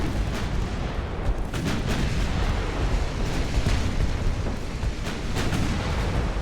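Heavy 9-inch naval guns firing in a dreadnought-era battle game, a steady rumbling barrage of overlapping booms with sharp reports at intervals, loud and continuous throughout.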